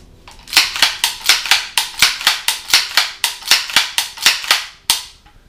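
A rapid string of sharp mechanical clacks, about a dozen and a half in quick succession, close and crisp, from a pump-action airsoft shotgun.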